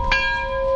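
A single bell strike rings out close and loud, its bright tone sustaining with steady harmonic hum through the short moment, heard at a car dealership presenting a 2012 Jeep Wrangler in Sanford, Florida.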